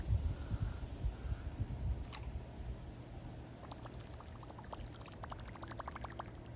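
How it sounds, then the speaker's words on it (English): A Whopper Plopper topwater bass fishing lure is retrieved through the water, its tail spinner making a rapid, soft churning splash, then a faster run of small clicking plops close by. "With that plopping sound, that's how it attracts fish."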